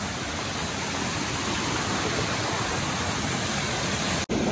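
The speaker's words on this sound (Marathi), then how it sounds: "हे बघा वॉटरफॉल." A large waterfall roars in a steady, loud, broadband rush of falling water that runs unbroken for several seconds, cut by a brief dropout near the end.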